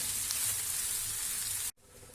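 Rice and vegetables for tawa pulao sizzle and get stirred in a hot pan, a steady close-up frying hiss with faint scraping that cuts off abruptly near the end, leaving a quieter background.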